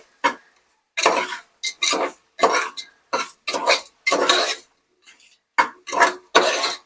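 Spoon stirring a tomato mixture in a cooking pot for kichdi, a series of separate scraping, clattering strokes with short pauses between them, close and clear with no talk.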